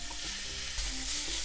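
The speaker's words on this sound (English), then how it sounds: "Just lightly saute for a couple minutes is enough." Paprika and garlic sizzle gently in sesame oil in a pan for Korean bibimbap, a steady close crackle with light stirring throughout.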